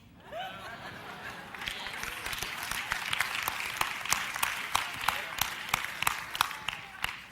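A church congregation claps during a sermon, scattered hand claps building into steady applause over a murmuring crowd with some laughter mixed in.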